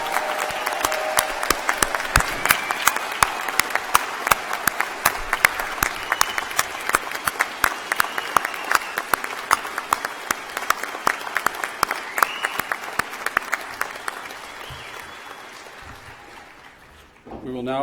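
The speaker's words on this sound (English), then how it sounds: "I think we should have a round of applause for all our master's degree recipients." Polite applause at a university convocation for master's degree recipients, individual claps ringing out in a steady patter for many seconds before thinning and fading away near the end.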